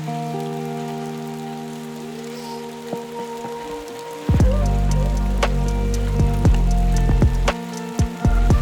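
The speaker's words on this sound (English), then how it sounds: "we're gonna wait for this icy rain to stop" Icy rain falls steadily on an Italian carp fishing trip, a constant close patter over a low droning hum that grows noticeably louder partway through.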